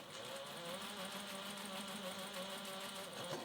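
A sewing machine runs a steady, continuous stitching hum while sewing a seam on a beach-themed clutch, a close mechanical whir with no breaks and no voices.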